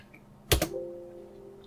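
Two quick, sharp keystrokes on a computer keyboard, close and clear, followed by a faint lingering tone in an otherwise quiet room.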